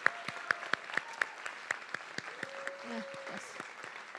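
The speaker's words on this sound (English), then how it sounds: "So please, let's clap for the graduates, recognize them." Sparse, scattered clapping from a small audience at a summer nursing pinning ceremony in an auditorium, faint and uneven individual claps, with a voice speaking briefly.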